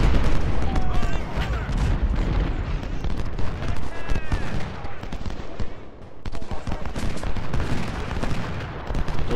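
Musket volleys and booming cannon fire rattle continuously in a Civil War battle from the strategy game Ultimate General: Civil War, loud and layered with overlapping shots and blasts throughout.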